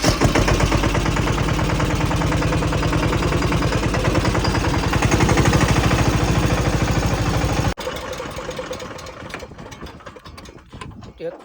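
A tractor engine running nearby on a farm track, a loud steady chugging with rapid regular firing pulses that cuts abruptly to a quieter, rougher idle for the last few seconds.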